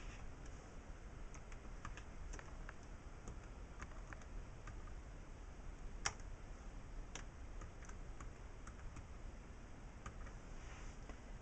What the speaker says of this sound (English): I'm going to be typing tweet